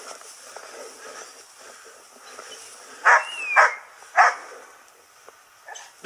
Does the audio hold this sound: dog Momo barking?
yes